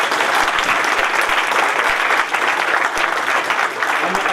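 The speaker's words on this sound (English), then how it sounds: "can we make sure we give Tim a round of applause" Steady, dense applause from a conference audience at an Ansible session, close and continuous for the whole stretch with no voices over it.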